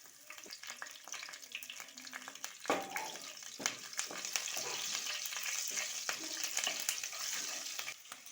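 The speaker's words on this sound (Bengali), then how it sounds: "তো তেল গরম হয়ে গেছে, এবার এখানে আমি দিয়ে দেব হিং, দিয়ে দেবো 1/2 চামচ জিরে, 4টে কাঁচা লঙ্কা চেরা" Hing, cumin, slit green chillies and curry leaves hit hot oil for a stuffed brinjal masala, sparse pops giving way to a dense, steady sizzle with stirring knocks, no speech.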